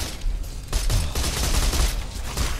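Dense, continuous gunfire from the Borderlands 2 video game, rapid overlapping shots and bursts forming a loud fusillade throughout with no talking.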